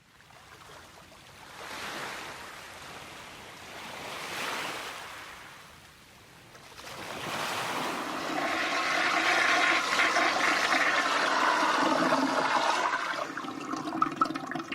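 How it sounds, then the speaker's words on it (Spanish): Sea waves surge and wash in slow swells, two softer rushes fading in and out before a louder, sustained roar of churning water that continues to the end with no voices. "Ahora sí que parece el mar."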